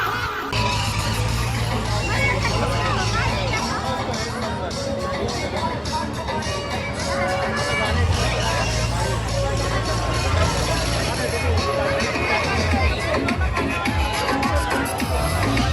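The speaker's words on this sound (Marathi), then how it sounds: "गर्दी का काय सांगू तुम्हाला लय खतरनाक गर्दी" A large crowd at the Shahapur Mahashivratri fair, a steady dense hubbub of many voices throughout, with low engine rumble from vehicles nearby.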